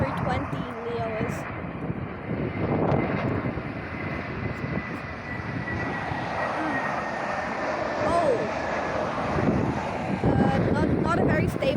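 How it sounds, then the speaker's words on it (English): A Lufthansa City Airbus A320neo lands at Dublin Airport, its jet engines roaring steadily at a distance under wind buffeting the microphone, while people talk over it throughout. "So let's see this Lufthansa City landing"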